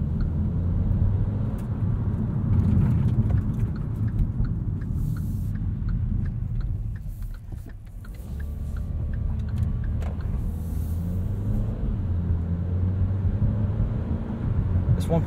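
A 2021 Kia Seltos S with a 1.6 turbo engine, AWD and a dual-clutch transmission drives along a road, giving a steady low rumble of engine and road noise heard from inside the cabin.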